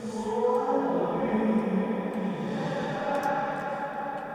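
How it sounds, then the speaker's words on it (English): Sustained tones are processed through the Valhalla Delay plugin with heavy diffusion, producing a smeared, washy echo that blurs into a dense reverb-like tail, steady in level throughout with no voice. "you can get a lot of big echo sound out of this one by controlling the amount and size in the diffusion here"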